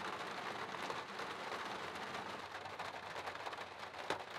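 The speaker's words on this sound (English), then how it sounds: "the afternoon showers gave us a heavy soaking" Heavy afternoon rain shower drenching a summer camp near Yellowstone, a constant hiss of rain with dense pattering drops striking surfaces nearby and a faint distant rumble, with no one speaking.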